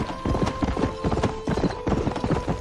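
Horse galloping at full speed in the Western video game Red Dead Redemption: rapid, steady hoofbeats pound continuously and loud, with a brief snort or whinny mixed in.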